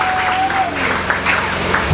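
A church congregation claps and applauds together in a continuous, loud wash of hand claps, with voices mixed in.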